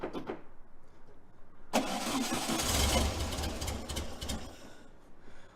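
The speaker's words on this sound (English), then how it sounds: "We're just trying to see if the car will actually fire up." 1955 Volkswagen Beetle engine cranking briefly, then suddenly catching and firing up into a loud rough idle that swells and slowly settles, heard close up.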